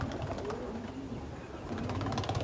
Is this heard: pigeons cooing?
yes